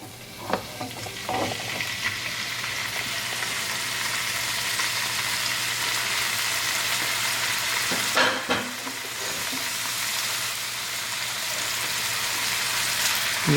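Beef sizzles and fries in olive oil in a kadahi over high gas, a steady crackling hiss with occasional clatter from stirring.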